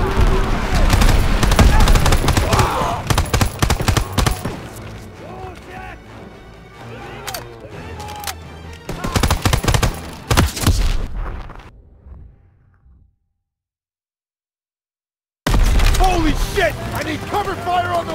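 Busy Call of Duty WW2 battle: dense bursts of gunfire and mechanical clatter under shouted soldier voices, then a sudden near-silent gap of a couple of seconds before the loud din of fighting returns.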